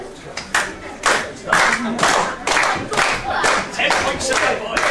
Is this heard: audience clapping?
yes